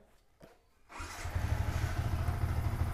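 A motorcycle engine with a smooth-running motor catches after a short quiet moment and settles into a loud, steady, close running rumble with no talking.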